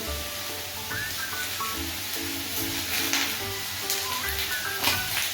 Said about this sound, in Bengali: আলু ঝিঙেটা ভাজা ভাজা হয়ে গেছে।